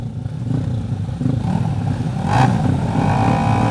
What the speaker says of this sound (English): Revs are up.